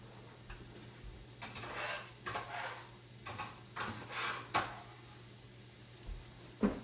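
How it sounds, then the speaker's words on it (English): Onions sauteing in a soup pot give a faint, patchy sizzle, with soft scrapes and ticks of stirring rising and falling over a low steady hum. "Then we're gonna add in the onions"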